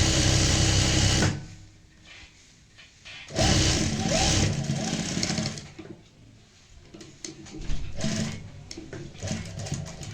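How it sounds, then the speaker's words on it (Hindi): A sewing machine stitches lace onto a sleeve in bursts of rapid whirring, running for a few seconds at a time with pauses and quieter handling between runs, close by. "इसी के ऊपर हमें यहाँ पे सिलाई लगानी होती है दोबारा"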